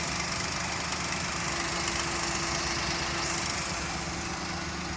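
A 2017 Maruti Alto 800 LXi petrol car idles close by, its small engine giving a steady, even rumble with a low vibrating hum throughout, no voices present.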